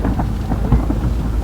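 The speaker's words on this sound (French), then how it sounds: "il y a de la grêle et des orages." Thunderstorm with hail over Oran, a steady low rumble with rain-like noise throughout and a brief heavier roll near the middle, no voices.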